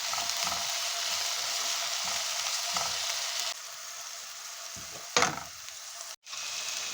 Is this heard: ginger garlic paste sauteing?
yes